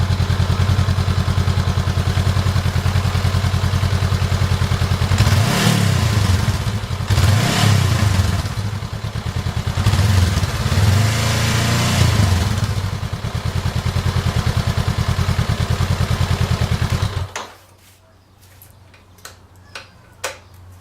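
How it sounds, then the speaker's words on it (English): A 2019 Honda CBR500R with stock exhaust, still in its break-in period, idles with a steady ticking thrum, revs up in three short rising blips, then cuts off, leaving faint clicks and taps. "So this is it at idling. I'll rev it up, not a lot."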